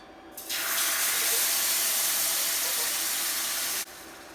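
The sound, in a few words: coconut milk poured into a large pan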